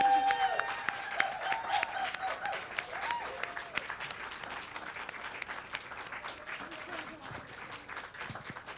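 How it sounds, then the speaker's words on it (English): An audience applauds a volunteer at a volunteer appreciation day event, steady clapping filling the room for several seconds with a few voices and cheers mixed in. "let's give a round of applause to Pam Brown"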